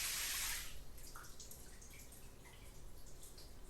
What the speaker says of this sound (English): The shower is draining.